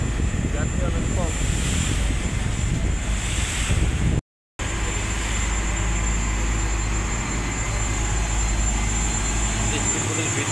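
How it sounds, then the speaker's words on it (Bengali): A passenger speedboat runs on the sea near the Maldives, its engine droning steadily beneath rushing water and wind noise, with a brief cut midway and someone talking over it. "দেখেন, এটা হচ্ছে যাত্রীবাহী স্পিড বোট।"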